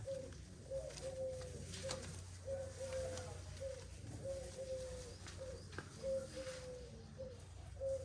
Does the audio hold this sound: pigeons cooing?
yes